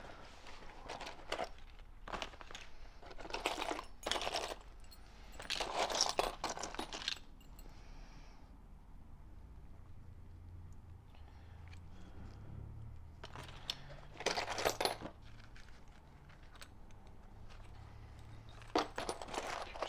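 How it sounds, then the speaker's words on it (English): A bunch of old padlock keys is rummaged through, with bursts of metallic jingling and clinking close by, separated by quieter stretches of shuffling. "a bunch of old padlock keys"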